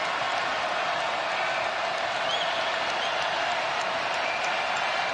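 Basketball crowd at Foster Pavilion during Baylor vs TCU, reacting to a missed free throw: a loud, steady roar of voices, jeers and clapping that fills the whole stretch without a break.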